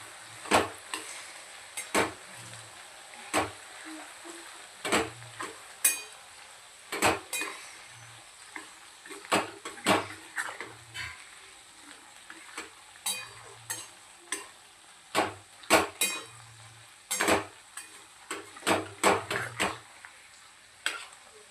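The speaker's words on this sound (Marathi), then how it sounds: "त्याला छानपैकी आपण असं मिक्स करून घेऊया" Spoon stirring turmeric into a garlic pickle, with intermittent scraping knocks against the bowl spread through the whole stretch, close and fairly quiet, with no voice.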